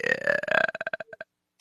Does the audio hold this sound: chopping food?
no